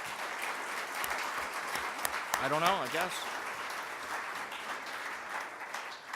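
Audience applause for a panel at a university oil spill response forum, steady broadband clapping throughout with a voice talking over it partway through.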